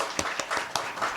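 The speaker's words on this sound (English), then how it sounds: "Huge round of applause." A crowd at an alumni panel discussion applauds steadily, with a few louder claps rising above a dense, moderate wash of clapping.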